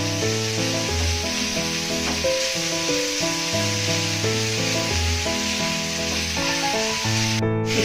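Vegetables for veg spring rolls stirred in a hot pan, a soft steady sizzle running beneath loud background music, with occasional faint stirring scrapes.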